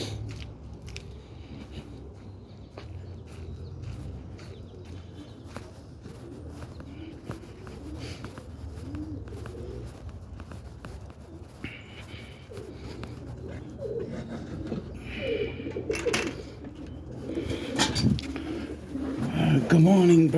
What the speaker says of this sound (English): Going to check the birds out.